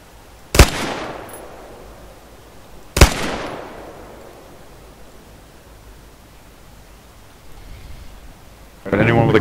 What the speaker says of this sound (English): I'm just going to throw out two shots.